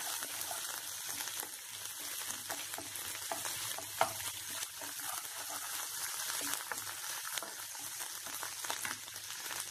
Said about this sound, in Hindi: प्याज भून गया, अब इसमें मैं मिर्ची और अदरक डालती हूँ, इसे भी थोड़ा भून लेती हूँ।